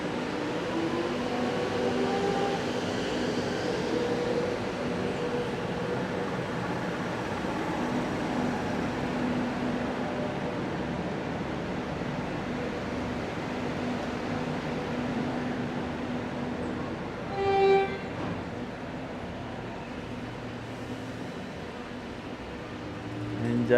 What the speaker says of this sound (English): And off goes the also Flinders Street train.